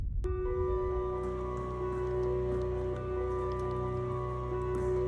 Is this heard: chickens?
no